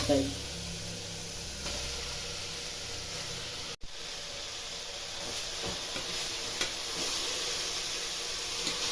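Beetroot and tomato fry in a pan while being stirred, producing a soft, continuous hiss and sizzle with occasional scraping and one sharp click midway.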